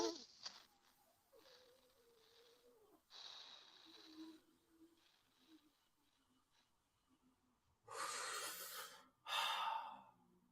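Tumo breathing exercise: soft breaths and faint vocal sounds, then two loud, forceful rushing breaths close to the microphone near the end, each lasting about a second.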